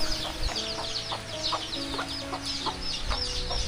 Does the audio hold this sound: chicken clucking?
yes